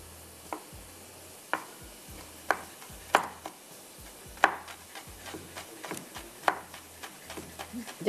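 A knife chops orange peel on a board for marmalade, sharp, evenly spaced cuts landing about once a second, close and clear with no talk.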